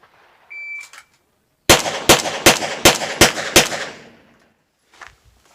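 Six sharp, loud Sig P320 pistol shots crack in a fast, evenly spaced string during a shooting drill, each with a short ringing tail, preceded by a brief electronic timer beep.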